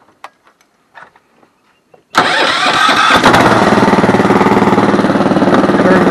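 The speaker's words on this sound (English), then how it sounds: "So we'll start the engine." A homemade amphibious Willys-style jeep's small engine cranks after a few quiet clicks, then catches and runs at a loud, steady, close rattling idle that continues to the end.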